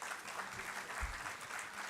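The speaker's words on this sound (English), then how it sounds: "give a huge round of applause for all the members of the dais" An audience at an Engineers Day celebration applauds steadily for members of the dais, a continuous moderate clapping that holds evenly throughout.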